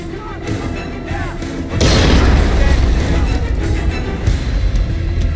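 A grenade goes off in Splinter Cell Conviction, a sudden loud boom at about two seconds that leaves a heavy, rumbling wash of debris and noise through the rest of the clip.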